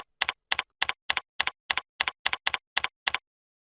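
Eleven evenly spaced keystroke bursts of typing on a computer keyboard, close and crisp, each a quick double click with short silent gaps between, no voices.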